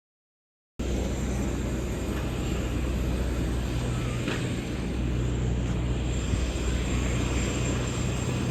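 A light aircraft's engine runs steadily at an outback airfield near Alice Springs, a constant close drone with an even hum that starts abruptly after a short silence and holds without pause.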